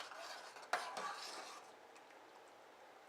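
A spoon stirs thickener into fried pie filling in a pot, soft scraping and a single clink near the start, quiet and close with no talk.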